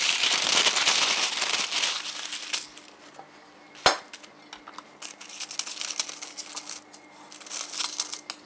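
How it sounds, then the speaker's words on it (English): Parchment paper crinkles and rustles as it is cut with scissors to fit a sourdough bread baking pan. Dense papery crackling comes early, thins into softer, sparser rustles, and one sharp snap lands midway. "you're going to want a piece of parchment paper, and you're going to cut it to fit the size of your pan"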